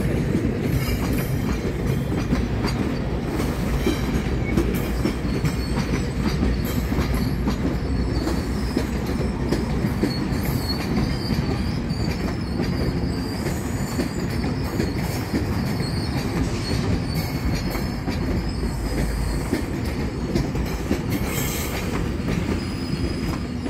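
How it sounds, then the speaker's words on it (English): A GO passenger train approaching Toronto Union Station, a steady loud rumble of rolling rail cars with rhythmic wheel clatter and intermittent squealing wheels that lasts throughout. "This is a GO train. It's coming from outside Toronto. It's approaching Toronto Union Station."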